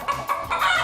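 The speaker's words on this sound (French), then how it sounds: "C'est ma poule." A pet hen clucks in quick short bursts at close range during a French news show, with a few rising squawks that sound loud and clear and no talking over them.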